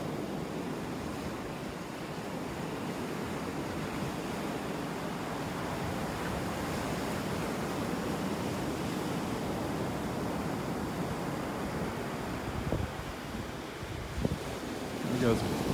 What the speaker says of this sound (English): the waves are just chipping away at the beach here